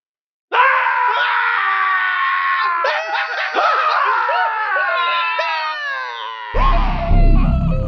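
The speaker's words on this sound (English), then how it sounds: "I'm going to go scream outside." A man screams outside in anger, one long strained, wavering yell lasting several seconds after a moment of silence, loud and close, ending with rough breathy noise.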